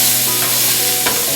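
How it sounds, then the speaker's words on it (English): Onion and garlic frying in a pan while being stirred around with a wooden spoon, a loud steady sizzle close up with a brief scrape of the spoon partway through, no voices. "our onion and garlic to the pan. Garlic. Give it a stir around."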